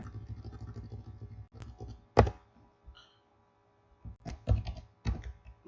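Quiet typing on a computer keyboard, scattered clicks and short bursts of keystrokes with pauses between them and a low hum early on.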